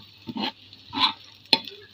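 Chopped onion and green chilies frying in oil in a home kitchen pan, with a few soft scraping stir strokes and brief sizzle bursts, close and fairly quiet, with no talking.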